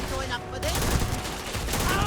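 Video game gunfire in a street gang shootout crackles in dense, rapid overlapping volleys. It is loud and continuous with barely a pause between shots.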